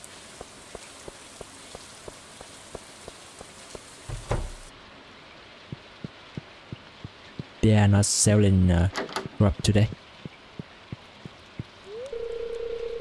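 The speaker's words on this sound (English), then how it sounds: "I have never seen green rain before." Green rain falling in the video game Stardew Valley, a soft continuous patter with regular ticking drops, interrupted by game effect sounds and a short spoken line.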